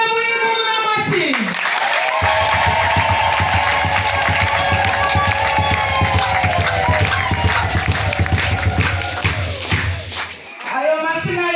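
A church congregation at a prayer service applauds loudly, a dense continuous wash of clapping mixed with cheering voices and crowd noise that fades near the end.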